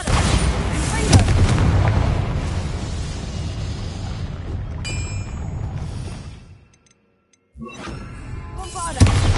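Loud spell blasts from Bombarda in the video game Hogwarts Legacy, a rolling series of booming, rumbling explosions that cut to near silence, then a fresh burst with a sharp final bang.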